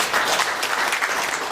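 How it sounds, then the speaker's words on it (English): A brief burst of audience applause at a community gathering, dense clapping from many people, close and steady through its short length with no speech over it. "A round of applause for them."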